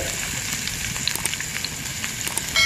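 Carrot pieces fry in a pan for a drumstick and moong dal curry, giving a dense, even hiss with light crackling pops close by.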